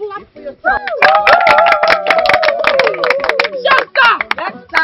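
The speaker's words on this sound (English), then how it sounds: "Clap for yourself." A group claps hands in a rapid, sharp burst lasting a few seconds, close and loud, mixed with raised voices and cheering.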